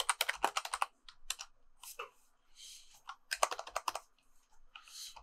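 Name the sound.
typing on a computer keyboard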